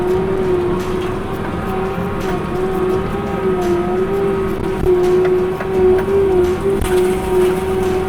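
Heavy machinery with a disc mulcher attachment, tilted back while backing out of small trees, holds a steady loud engine drone with a sustained tonal whine, with surges and rumbles as it drags along.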